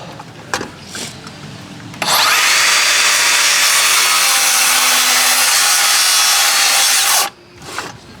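A power saw cuts timber for joist and sheet flooring in one loud, close, sustained rasping cut of about five seconds, preceded and followed by brief handling knocks.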